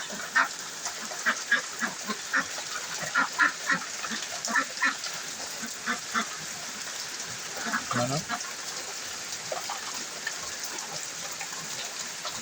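A flock of three-month-old ducks quacks repeatedly in short bursts, fairly close, over steady background hiss.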